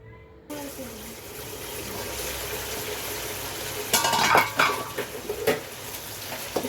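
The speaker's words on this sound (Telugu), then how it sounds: "ఒకసారి ఇలా కలుపుకొని మూత పెట్టి అయితే మగ్గించుకుంటానండి" A spoon stirs chicken and broad bean curry in a pan. A soft steady sizzle runs throughout, followed by a few close clinks and scrapes of metal against metal as the pan is covered.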